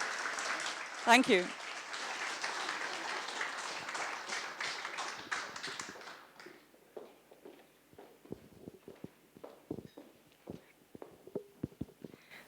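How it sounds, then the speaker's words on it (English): At a firm's event about crypto accounting, the audience claps for a speaker for about six seconds, then the applause drops away into scattered taps, footsteps and stage sounds while a voice briefly says thanks. "A round of applause, please."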